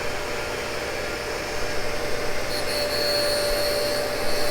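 A Cincinnati tool and cutter grinder running, a steady broadband motor and spindle hum with a faint high whine, continuous and even throughout with no speech.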